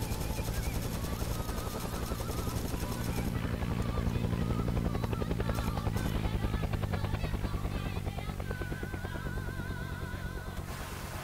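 Helicopter rotor drone in a military tactical shooter, loud and steady throughout, with bursts of gunfire crackling over it and faint radio-style voices underneath.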